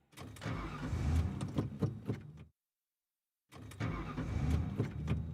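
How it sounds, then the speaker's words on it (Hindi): A car engine cranks repeatedly without catching, a steady grinding starter whir that stops for a second of silence and then starts up again, close and fairly quiet, with no voices. "ये गाड़ी क्यों नहीं स्टार्ट हो रही है?"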